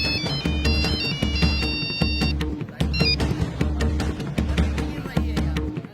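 A phone rings with an incoming call, a repeating electronic ringtone melody in steady regular bursts, fairly close and clear with no talk over it.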